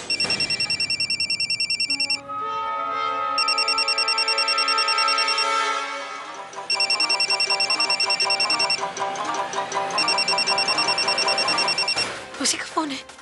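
A phone rings in a Hindi TV drama scene, a loud electronic ringtone with repeating beeping bursts and a melodic tone in between, continuing for several cycles before cutting off.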